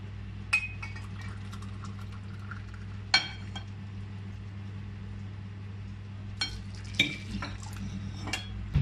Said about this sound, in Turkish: İrmiğimizi ve bulgurumuzu karıştırdık.